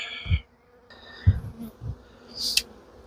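Honeybees buzz around hive frames during an inspection, with short close buzzing bursts and thuds as the bees are shaken off, plus faint rustling in between, fairly quiet overall.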